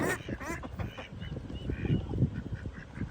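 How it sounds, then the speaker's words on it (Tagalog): A duck on Swan Lake in Hatta quacks in a series of short, nearby calls mixed with a low honk or two, against light outdoor background noise. "See the duck."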